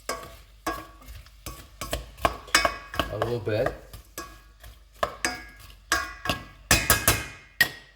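Ingredients stirred in melted butter and olive oil in a pan, with repeated scraping and clinking strokes of a utensil against the pan over a soft sizzle, close by, and a voice speaking briefly.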